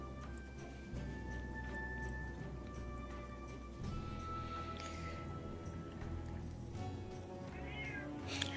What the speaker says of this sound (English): Kitty talks.